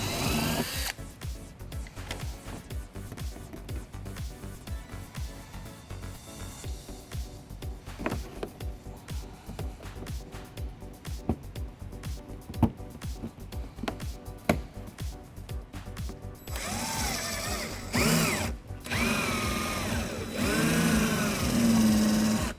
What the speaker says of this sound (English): we're going to drill out the center of it using a small drill bit